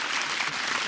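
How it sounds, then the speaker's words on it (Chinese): A brief burst of dense audience applause for Fei Fei, a full, steady wash of clapping without pause. "掌声给菲菲姐安慰一下"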